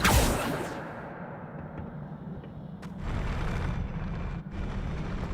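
An Incendio fire spell cast in Hogwarts Legacy, a sudden loud whooshing burst of flame that settles into a rushing roar, then swells again in a second fiery surge, with no talk.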